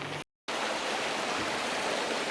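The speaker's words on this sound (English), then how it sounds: "Another little creek" A small creek on the forested BX Trails in the Okanagan flows in a steady, close rushing hiss, broken by a brief cutout near the start.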